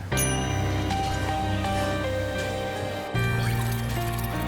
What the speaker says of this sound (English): he's got a mellotron on there. That's what the strings in the background are.